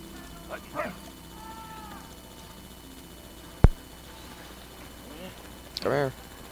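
A dog barks in the World War I puzzle adventure game Valiant Hearts: two or three short yaps near the start and a louder burst of barking near the end, separated by quiet game ambience and a sharp click.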